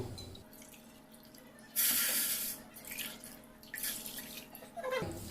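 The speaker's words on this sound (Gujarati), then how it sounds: "હવે આપણે ગેસ પર એક કઢાઈમાં બે ગ્લાસ જેટલું પાણી લઈશું" Water pours into a kadai on a gas stove in a home kitchen, with two short splashing bursts rising over quiet background.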